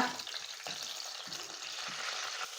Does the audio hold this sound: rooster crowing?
no